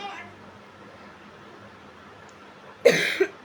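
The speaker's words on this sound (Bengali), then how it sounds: "আমি কাশি লেগে কথা বলতে পারতেছি না।" A single sharp, loud cough bursts out near the end after a quiet pause, with a faint voice briefly heard at the start.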